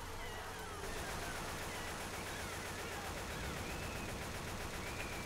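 Continuous rapid gunfire from several players shooting the Witch in Left 4 Dead, a dense, unbroken rattle of shots with a faint wailing cry and brief voices underneath.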